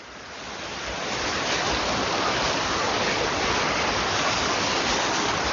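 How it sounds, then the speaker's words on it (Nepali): Water pours steadily over a dam on a drinking-water project after rain, a loud, continuous broad rush that swells in the first second and then holds evenly. "र यो ड्याममा यसरी पानी झरिरहेको अवस्था"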